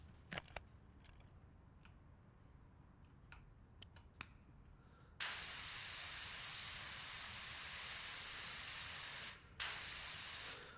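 A few faint clicks and snaps come first, then an empty multi-purpose cleaner spray bottle lets out a long, loud, steady hiss that breaks off briefly and resumes.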